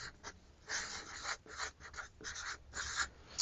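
A marker or pen writing on a classroom chart, with a string of short scratchy strokes and pauses, faint and close, no talk.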